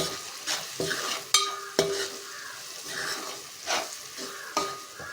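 A spoon stirs turmeric, salt and chili powder in a hot frying pan. Light sizzling runs under repeated scrapes and several sharp metallic clinks of the spoon against the pan, all close up and with no talking.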